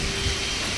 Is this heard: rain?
yes